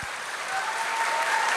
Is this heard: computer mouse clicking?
no